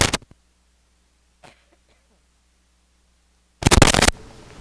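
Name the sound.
cough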